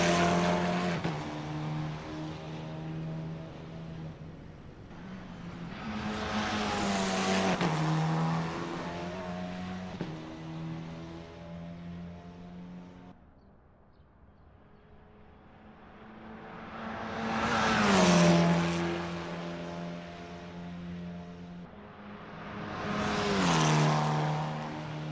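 Formula 4 race car lapping Bathurst in the Assetto Corsa racing game, its engine droning steadily through gear changes, then rising in loud passes and fading between them, with no talk.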